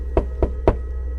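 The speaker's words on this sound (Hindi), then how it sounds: "दरवाज़ा बंद करते ही फिर से वही खटखटाने की आवाज़।" Three sharp knocks on a door, evenly spaced and close, over a low steady hum, with no voices.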